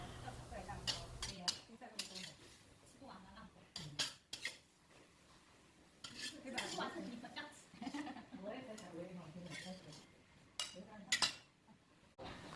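Dishes and cutlery clink and scrape in a home kitchen as cooked food is lifted from the pan onto a plate, a series of sharp, close taps and knocks in irregular bursts over low background noise.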